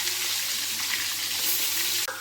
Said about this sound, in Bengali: সমস্ত পটলগুলোকেই ভেজে নেব।